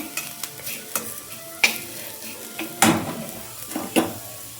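Food roasting in a pan sizzles steadily under repeated scraping strokes of a spatula, with a few sharper clinks against the metal as it is stirred.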